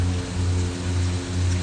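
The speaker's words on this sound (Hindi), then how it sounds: "बेहतरीन बारिश हो रही है, लेकिन उसके बावजूद काम नहीं रुका" Heavy rain pours down on a building site under renovation, a dense, steady hiss over a low droning machine hum, continuous and close with no voices.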